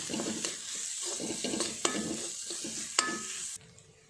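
A spoon stirs chili powder into softened tomato curry with capsicum in a pan, making scraping, rhythmic strokes over a gentle sizzle, with two sharp metal clinks before the sound cuts off.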